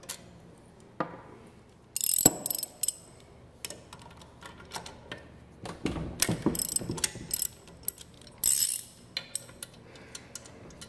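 A ratcheting tool clicks and rattles in intermittent bursts while screws are removed from a centrifugal pump's volute and seal housing during disassembly, with metallic clanks between passes and no talking.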